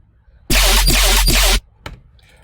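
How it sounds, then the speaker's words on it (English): A basic Serum synth patch built from a saw wave with frequency modulation bursts out as a loud, bright, buzzing tone for about a second, followed by one short, sharp stab and a faint tail. "It's just like a basic shapes and a saw wave, with the frequency modulation"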